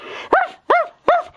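A dog in an animated series episode barks three times, loud and close, each bark short and evenly spaced with brief silence between, and no talk over it.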